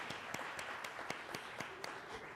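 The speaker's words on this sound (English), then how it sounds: "Let's all give them a round of applause." Audience applause for forum sponsors, sparse and fairly quiet, with a handful of distinct claps standing out in a roughly regular pattern over soft background clapping.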